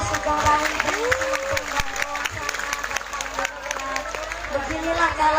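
A crowd at an Indonesian religious lecture claps in a dense, continuous patter, with voices and murmuring mixed in.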